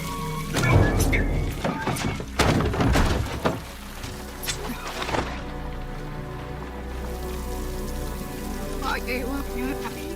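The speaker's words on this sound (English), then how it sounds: "Later that night, rain poured down as John remained tied to the post, weak and soaked" Heavy rain pours down in a scene from the 2014 western The Salvation: a steady wash of rainfall with several heavy thumps and knocks early on, then a continuous downpour.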